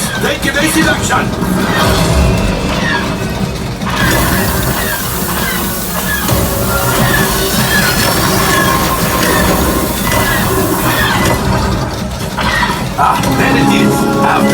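Train rumble and clatter on the Millennium Falcon ride, a steady loud roar throughout that blends with ride effects and voices talking over it.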